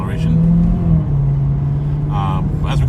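A 2015 Chevrolet Corvette accelerates on a road test with a loud, steady engine rumble heard from inside the cabin. A voice speaks briefly over the engine noise.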